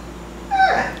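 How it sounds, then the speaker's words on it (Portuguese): A dog lets out a single short, high whimper that rises and then trails off, heard close over a low steady background hum. "Cachorro."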